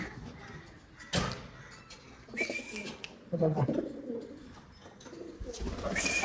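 Low, soft pigeon coos rumble nearby amid rustling and a sliding-door clatter, with faint indistinct background voices.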